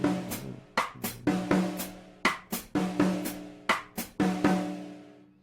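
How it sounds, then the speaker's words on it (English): A basic 6/8 tumbao conga pattern is played on drum kit toms: resonant, pitched tom hits fall in a lilting repeating rhythm, several strokes per cycle, each decaying with a ringing tone, close and clear with no talk. "One very common one is just a basic tumbao in 6/8,"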